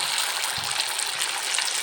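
Egg appam batter pours into a hot pan with a steady, close sizzling hiss that barely changes.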